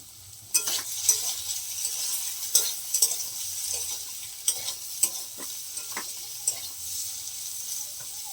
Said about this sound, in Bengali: আজকে ঘরে উচ্ছে গাছে উচ্ছে তুলে আজকে ভাজা করছি